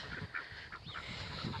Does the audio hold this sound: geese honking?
yes